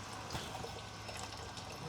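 Coolant flushing out and draining from under an old Ford Mustang with a suspected blown head gasket, a steady continuous watery trickle and pour running throughout, fairly close, with no talk over it.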